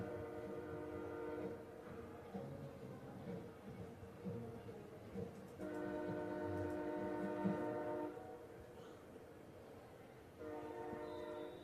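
A freight train passing near a high school football field during a night game, its horn sounding in three long, moderately distant blasts over a rumbling rail background.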